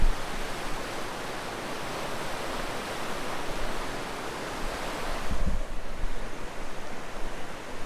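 River water rushes along the Curecanti Creek Trail near a bridge, a loud, steady roar that fills the whole stretch with only small swells in level and no voices.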